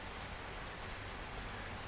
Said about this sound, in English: as the rain falls gently here over the beautiful tropical air in the South Pacific